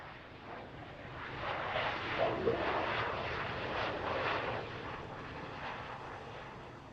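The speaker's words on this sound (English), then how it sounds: "That one was quite loud. I don't know if you heard it. The reverse thrusters." A Gulfstream jet lands on runway 31 at Harrisburg International Airport with reverse thrust: a broad, steady roar heard from a distance that swells slightly in the middle and then slowly fades, with no voices.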